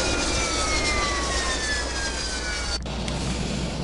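An A-4 Skyhawk jet engine in ARMA 2 Operation Arrowhead roars loud and steady with a falling whine as it spools down, then a sudden cut near the end.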